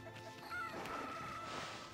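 Chickens cluck in Okami HD, a few short clucks and squawks at moderate loudness over game music, with no talk.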